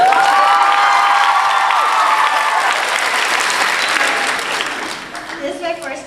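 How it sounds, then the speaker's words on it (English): Loud audience applause at a fan convention panel, a dense sustained roar of clapping with some cheering that gradually fades over several seconds, with voices emerging as it dies down. "Round of applause, guys."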